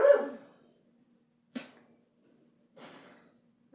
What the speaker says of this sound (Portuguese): agora eu vou apresentar pra vocês o doguinho